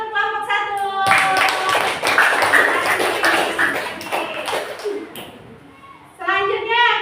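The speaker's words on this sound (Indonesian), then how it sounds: "Oke, beri tepuk tangan untuk kelompok" Children in a classroom break into dense, lively clapping for a group, a loud wash of many hands lasting several seconds before fading, with children's voices before and after.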